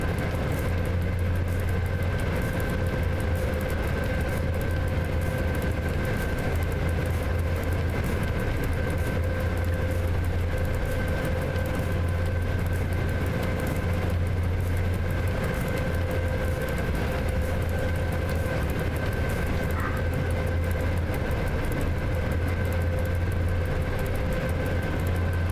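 A locomotive runs steadily in the SimRail train simulator, with a continuous low engine drone and rumbling rail noise holding at an even, loud level throughout, with no voices.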